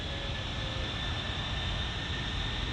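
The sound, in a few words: Boeing C-17 Globemaster four-engine military jet transport aircraft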